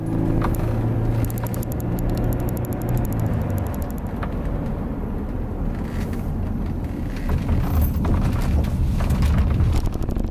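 A Mercedes R350 with a V6 engine drives along steadily, its low engine drone and road rumble continuous and fairly loud, with some wind noise rising and falling over the ten seconds.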